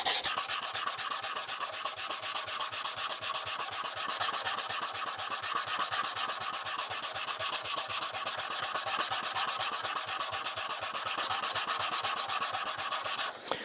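Rapid rhythmic sanding of a small wooden block with sandpaper, a continuous scratchy rubbing at a steady fast pace, close and fairly loud.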